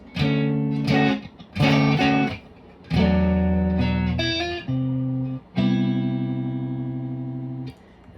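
Electric guitar plays a chord riff drenched in effects, several short strummed bursts followed by longer ringing chords with reverb and slight distortion; no voices.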